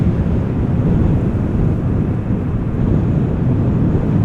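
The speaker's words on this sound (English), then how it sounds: "Also looks like a BizJet might be taking off from runway 24 shortly." A business jet takes off from runway 24 at a stormy airport, heard as a steady, heavy low roar that holds evenly throughout and blends with buffeting wind.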